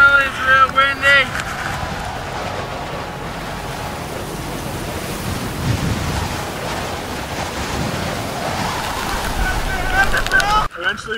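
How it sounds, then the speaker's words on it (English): Strong, steady wind on a mountain ridge roars and buffets the microphone for the whole stretch, with a broad rushing noise and occasional louder gusts. "This ridge is pretty gnarly, it's real windy."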